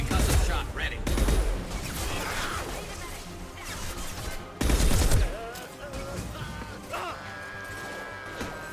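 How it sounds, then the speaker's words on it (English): Gunfire with incendiary ammunition in the sci-fi shooter Mass Effect 2, heard as two sharp, heavy bursts of firing and impacts with softer combat noise between them, while a voice talks over parts of it. "Let's try incendiary ammo at the moment."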